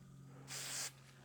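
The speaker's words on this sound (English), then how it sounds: "hit it with a little glue, a little 3M spray adhesive" 3M spray adhesive hisses from an aerosol can in one steady burst of about half a second, loud and close over a low background hum, applied as glue for felt anti-chafe strips on a WW2 Willys Jeep gas tank.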